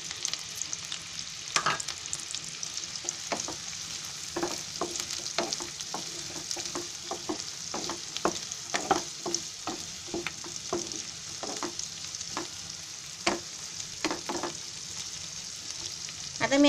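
Capsicum and onion frying in a pan for chicken Manchurian, a steady close sizzle with frequent clicks and scrapes of a stirring spoon throughout.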